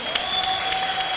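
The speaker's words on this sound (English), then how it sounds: "Let's clap it up for them as they come up" Applause from an audience at a school STEAM fair, a steady wash of clapping with faint voices mixed in, continuous through the short stretch.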